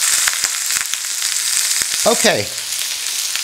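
German beef roast for sauerbraten sizzles steadily in a frying pan, a loud, continuous crackle with a brief stirring scrape partway through and a short spoken word.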